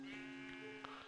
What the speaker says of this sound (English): A sheep stuck in there.